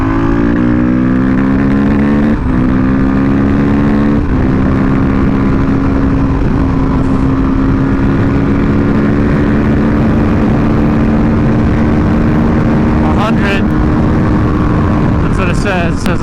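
A Husqvarna 510 SMR supermoto engine revs loud and close, its steady harmonic drone climbing in pitch across several throttle pulls, with wind roar throughout.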